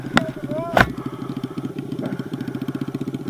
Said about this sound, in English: Listen to that Kawasaki run on its side